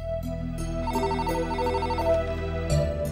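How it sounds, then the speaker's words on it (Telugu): A telephone rings in a television drama scene: a steady electronic ringtone with a repeating melodic pattern plays fairly quietly for about three seconds, then cuts off abruptly. "అదుగో ఫోన్ మోగింది"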